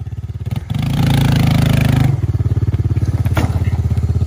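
A Honda Fourtrax ATV engine roars close by while freestyling, its pulsing, throbbing exhaust revving up hard, holding high and then dropping back to a rough, choppy idle-like rhythm.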